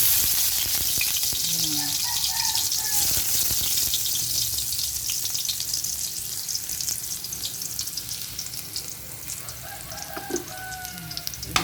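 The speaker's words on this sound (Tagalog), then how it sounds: "Painitin lang natin muna ang mantika. Pwede nang ilagay ang bawang." Garlic frying in hot cooking oil for a vegetable dish, a loud dense crackling sizzle throughout, with a rooster crowing faintly in the background.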